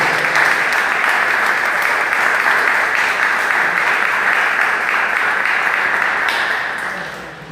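Congregation applauding during a church service, a dense, steady wash of many hands clapping that holds loud for about seven seconds before tapering off at the end.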